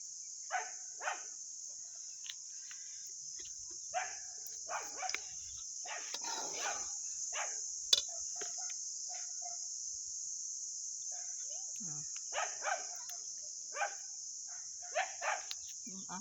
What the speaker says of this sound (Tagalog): Nagtatahol yung aso namin.